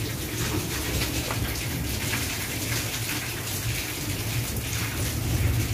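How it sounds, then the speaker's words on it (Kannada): Heavy rain pours in a steady, dense hiss with no breaks, fairly loud and even throughout, with no voices. "ನೋಡ್ರಿ ಮಳೆ ಯಾವ ರೀತಿ ಒಮ್ಮಿದ ಮಳೆ ಬರತೈತಿ"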